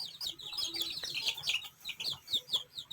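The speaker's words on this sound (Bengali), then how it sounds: "আজকের ভিডিওতে দেখাতে চেয়েছি মুরগির বাচ্চাগুলো কিভাবে বাজরিকা পাখির খাবার খাচ্ছে" Domestic chicks eating budgerigar seed: a steady flurry of high, thin peeping and cheeping from several chicks close by, with faint pecking taps underneath.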